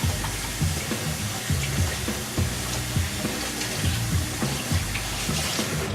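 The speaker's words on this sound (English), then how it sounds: "Just run it under cold water for about a couple seconds," Cold tap water running steadily over shrimp in a strainer, a continuous splashing rush with small gurgles and no talking.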